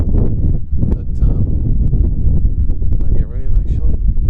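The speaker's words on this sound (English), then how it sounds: "But yeah, a little bit windy." Strong wind buffets the microphone in a constant loud rumble, with a voice speaking through it.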